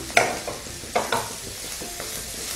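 Mixed vegetables, including tri-colour capsicum, stir-fry over a high flame for veg chow mein, with a continuous hiss broken by several sharp spatula scrapes and tosses close by. No voices.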